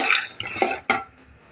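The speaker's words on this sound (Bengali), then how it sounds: "বাদামটা একটু ভেজে নেব ভালো করে নাড়বো যাতে বাদামটা পুড়ে না যায়" Peanuts dry-roasting in a pan are stirred with a utensil, producing a few short scraping, rattling strokes against the metal, close and fairly quiet.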